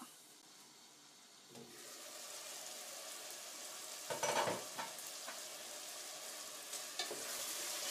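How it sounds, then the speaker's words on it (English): Beef cooking with onions and garlic in a covered pot for Greek youvetsi, a steady soft sizzle and frying hiss with occasional scraping stirs, close and alone without talk. "Go ahead and stir the meat every 5 minutes."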